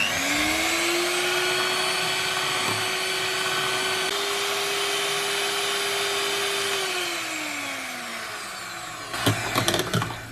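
An electric hand mixer beats cream with half a teaspoon of vanilla extract for homemade ice cream. Its steady motor whine holds close and loud, ramps up, then winds down, and a few clattering knocks follow after it stops.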